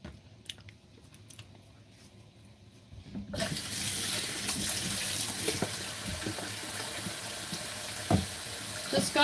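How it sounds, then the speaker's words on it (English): Water running from a kitchen tap while hands are washed, quiet at first, then a steady loud gush begins partway through and keeps flowing with small splashes. "Just gonna wash my hands real quick."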